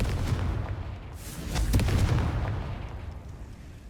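Bombarda and Confringo spell explosions in the Hogwarts Legacy video game, a dense roaring blast with a booming burst in the middle that swells and then slowly fades, loud and close.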